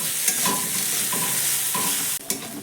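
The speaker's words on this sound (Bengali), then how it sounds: "আদাটাকেও পেঁয়াজের সঙ্গে নাড়াচাড়া করে একটু ভেজে নেব।" Grated ginger and onion stirred and fried in a pan, with a steady bright sizzle and a few scraping stirs of the spatula, close and continuous, with a brief dip near the end.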